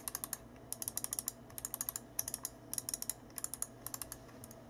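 Main buttons of a SteelSeries Sensei RAW gaming mouse clicked repeatedly in quick clusters, quiet and close, each click a short sharp tick over a faint background hum.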